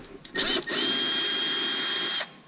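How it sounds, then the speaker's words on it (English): Power drill spinning out a 10mm bolt while a Tesla Model 3 power front trunk is installed: a short tap, then a steady loud close whine that holds for nearly two seconds before cutting off. "we're going to remove this 10mm bolt right here"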